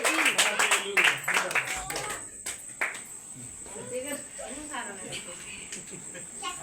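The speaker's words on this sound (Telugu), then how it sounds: "చప్పట్లు" A small crowd claps at a brother and sister's wedding anniversary gathering, a burst of close, brisk applause in the first two seconds, followed by people talking.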